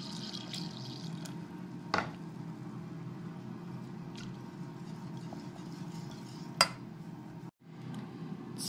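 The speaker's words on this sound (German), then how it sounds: "Und nun kommt auch noch ein bisschen Milch dazu." Milk poured into a roux for a broccoli bake, a soft steady liquid trickle over a low hum, with a few light clinks of stirring against the pan and no talk.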